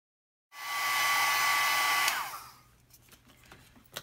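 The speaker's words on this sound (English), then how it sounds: "show you how fast this will dry with a heat gun" A heat gun drying stamped ink on photo paper switches on with a steady, loud blowing whoosh for about two seconds, then shuts off and winds down, leaving faint rustles and small clicks.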